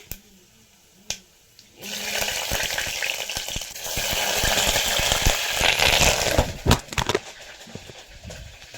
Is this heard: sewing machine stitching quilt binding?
no